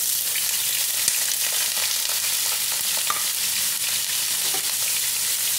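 Fish tofu half-frying in hot cooking oil gives a continuous close sizzle and crackle with scattered pops, steady and busy throughout with no talking.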